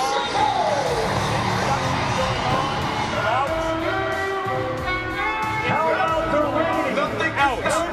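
A loud arena crowd cheers and whoops during rider introductions at the 2017 World Finals bull riding, a dense roar with music-like tones and an announcer's voice layered over the din throughout.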